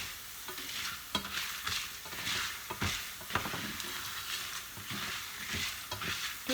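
Food frying in a pan of hot oil, a continuous crackling sizzle broken by irregular bursts of spattering as pieces are stirred and turned.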